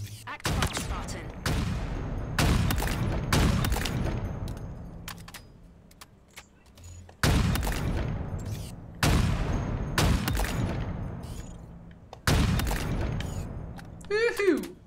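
Sniper rifle fire in the Halo Infinite multiplayer weapon drill: about eight loud, sharp shots, each with a long decaying tail, fired at irregular intervals and sometimes in quick pairs.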